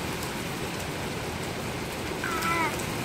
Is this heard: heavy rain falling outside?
yes